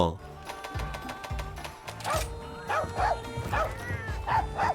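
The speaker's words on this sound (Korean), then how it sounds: "가루크가 짖어서 제스처를 못하겠는데?" A Palamute dog companion barks repeatedly in Monster Hunter Rise amid game music and effects, short rhythmic yips rising over the busy in-game soundscape.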